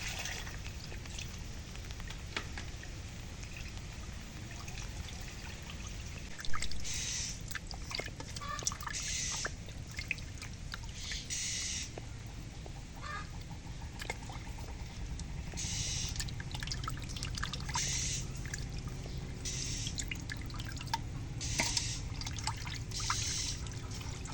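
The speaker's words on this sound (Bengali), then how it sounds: "মাছটা ধুয়ে নিই" Silver carp being washed in water, soft trickling and splashing with intermittent sharper splashes and handling knocks, fairly quiet and close, with some faint background voices.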